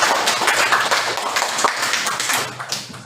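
A class of students claps together in a school lesson, a dense, steady patter of many hands lasting about three seconds with no talk over it.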